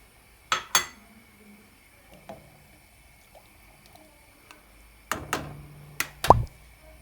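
Boiled chickpeas drop into a pot of sour bulgur meatball soup as a few soft plops and clinks of a bowl and spoon, separated by quiet pauses.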